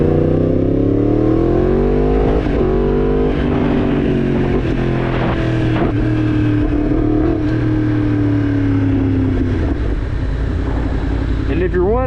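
A 2021 Yamaha MT10 motorcycle under way, its engine note climbing loud and close as the throttle opens, then holding a steady high drone with wind rush before settling lower near the end.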